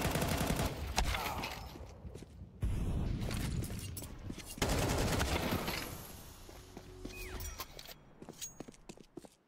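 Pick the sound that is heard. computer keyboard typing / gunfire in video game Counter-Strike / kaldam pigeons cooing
gunfire in video game Counter-Strike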